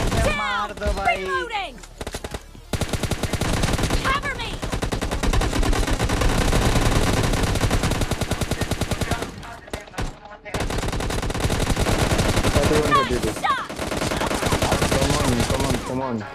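Rapid automatic gunfire from a mobile shooter game's team deathmatch, dense bursts hammering loud and near almost without pause, with voices talking over the fire.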